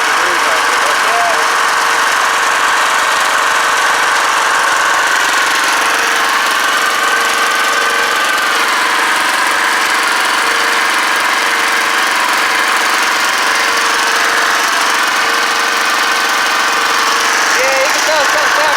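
A homemade DC generator's small engine runs with a smoking exhaust on a 25-degree day, a loud, steady, rattling drone with slight wavering, while people talk beneath it.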